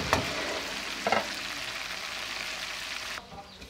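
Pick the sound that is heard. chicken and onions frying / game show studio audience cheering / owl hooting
chicken and onions frying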